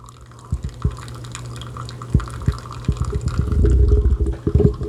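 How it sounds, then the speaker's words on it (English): Keurig coffee machine brewing Folgers coffee: liquid trickles and drips irregularly at close range, then builds into a steadier gurgling pour over a low hum. "Oh, that is the sound of an early morning perfect brew of Folgers."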